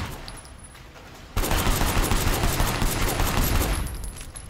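Sustained gunfire in the video game Sleeping Dogs: a quiet lead-in gives way to a sudden, loud, continuous stream of rapid shots that holds for a couple of seconds before easing off.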